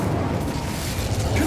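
A fire spell is cast in the Hogwarts Legacy video game, bursting into a dense, loud, rumbling roar that stays sustained and full throughout the short moment.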